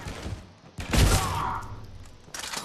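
Shotgun blasts in Mass Effect 3 multiplayer combat, a heavy booming burst near the middle followed by sustained rumbling battle noise and a second burst near the end.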